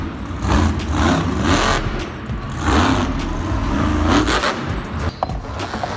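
Soldier Fortune monster truck roaring through its arena run, the engine surging and revving in repeated loud swells with rough, gritty bursts and crowd noise mixed in.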